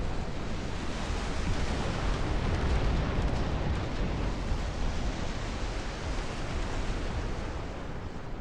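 Missile explosions in the real-time strategy game Dust Front RTS form a dense, continuous roar of rumbling blasts that stays loud and steady throughout, with no distinct pauses or voices.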